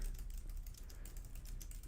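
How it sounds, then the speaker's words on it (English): Steady typing on a computer keyboard while trying out text entry in an Android app, a dense run of quick, light key clicks throughout, close by with no talking. "So this one, we can type in some stuff here."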